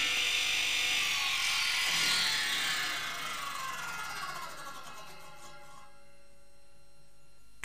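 DeWalt 720 radial arm saw cutting a miter: loud broadband whine of the blade biting into wood that gradually fades as the cut ends and the motor spins down, ringing tones lingering near the close.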